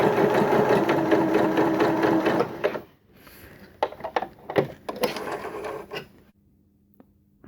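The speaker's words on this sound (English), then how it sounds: "Here's my second row of stitching, and I'm just going to keep the edge of my foot against that row there. And I'm doing a very long stitch length." Sewing machine stitching a row at a long stitch length, a loud steady mechanical chatter for about two and a half seconds, then stopping and giving short bursts of stitches before falling quiet.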